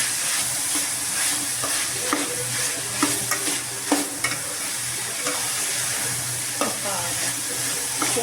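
Onions sizzle steadily in a hot pan while a utensil stirs them, with scattered scraping clicks over a constant frying hiss during the cooking of chicken fried rice.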